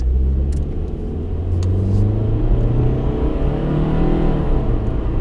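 A Nissan Altima GXE's dual overhead cam K24 engine with variable valve timing revs and accelerates with a steady, loud, close rumble that builds in pitch, continuous throughout with no talking.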